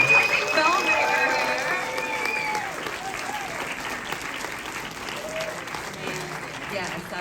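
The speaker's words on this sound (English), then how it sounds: "let's give the loudest applause of the night for Unholy Communion" Applause for a film festival Q&A, loud and dense at first with whoops and shouting, then settling into steady sustained clapping from the audience, with some voices mixed in.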